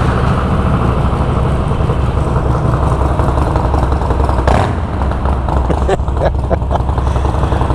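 A motorcycle fitted with an aftermarket exhaust rumbles loudly and continuously nearby, a deep steady engine drone with a brief shift in tone midway and a few sharp pops toward the end.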